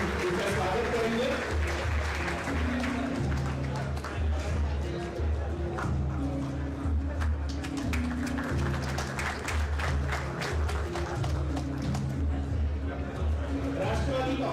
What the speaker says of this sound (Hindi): जोरदार तालियों के साथ हम उनका स्वागत करेंगे